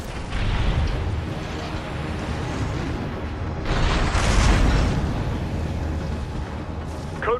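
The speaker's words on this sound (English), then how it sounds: "don't go near explosions when things are exploding" Video game explosions rumble and boom in a continuous, loud barrage of blasts and bursts, with a sharp pop near the end, with speech likely mixed in.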